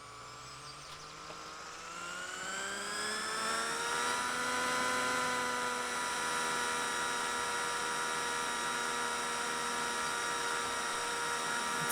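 A UH-1 Huey helicopter engine in a flight simulator spools up, its whining turbine tones rising steadily in pitch and loudness over the first few seconds, then holding as a constant drone.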